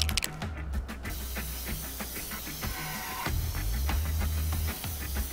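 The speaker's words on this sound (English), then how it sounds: "This spray tagging" Spray paint tagging in the video game Infamous: Second Son, a steady hissing spray running throughout at moderate level over game background sound, with a few brief clicks and rattles.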